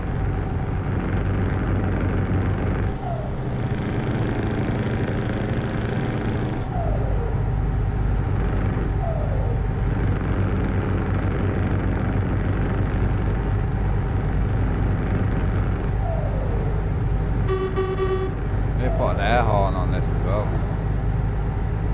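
A loud Volvo truck engine in the Euro Truck Simulator video game drones steadily and close throughout, with brief shift and air-release sounds breaking in at intervals.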